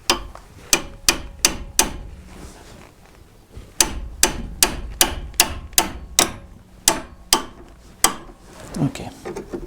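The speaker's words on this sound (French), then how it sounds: "Ok, je vais chercher notre ami le marteau." Hammer striking the tie rod of a Renault Twingo during a home wheel alignment, a series of sharp metallic blows in two bursts of about ten, close and loud, with a brief pause between bursts.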